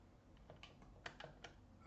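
A few soft computer keyboard key presses click at irregular intervals, quiet and close, with no talking.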